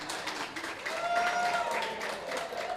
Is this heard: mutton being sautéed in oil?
no